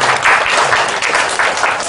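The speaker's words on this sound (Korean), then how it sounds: "여러분 박수로 한번 환영해 주십시오." A church congregation breaks into dense, loud applause, many hands clapping together in a steady wash that fills the room without a break.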